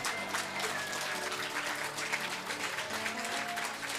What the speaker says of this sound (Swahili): piga makofi